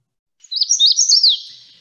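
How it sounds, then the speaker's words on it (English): A magnolia warbler sings one short, high, sweet phrase of quick up-and-down notes, close and clear against silence. "It's a magnolia warbler."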